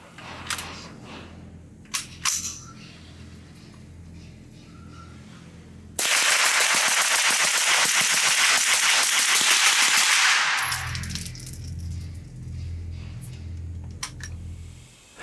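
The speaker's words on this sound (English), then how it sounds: "Load up a magazine, just shoot it as fast as I can and make sure everything runs." Thompson Center T/CR22 .22 rifle, a Ruger 10/22 clone firing Federal bulk ammo, rapid-fire shots in a dense burst of about four seconds, loud and close, with quieter handling noises before and after.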